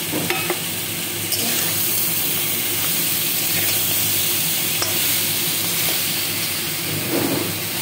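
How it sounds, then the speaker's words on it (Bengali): Fried lentil dumplings tossed into a pan of potatoes, tomato and spices cooking in oil, a loud close sizzle with repeated stirring and scraping clatter throughout. "ভাজা বড়িগুলো দিয়ে দিলাম।"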